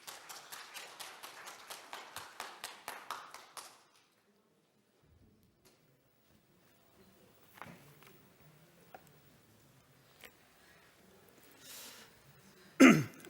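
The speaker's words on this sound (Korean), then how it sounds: "뜨거운 박수로 맞이해 주세요." Rhythmic clapping welcomes a speaker at a business presentation: about a dozen evenly spaced claps over roughly four seconds, then near silence with faint shuffling and a sharp knock at the end.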